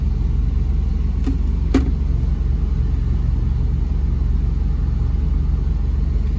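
A Kei truck engine idling just over 1,000 RPM, a steady, loud low rumble that holds evenly throughout with a couple of faint clicks early on.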